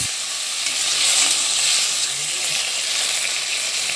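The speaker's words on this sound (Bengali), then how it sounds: "এরপরে নাড়াচাড়া করে দিতে হবে তারপরে পরিমাণ মতো জল দিয়ে কষিয়ে নিতে হবে" Salted baby food fries in a pan and is stirred, giving a loud, steady sizzling hiss close by with faint shifting scrapes underneath. No voice is heard.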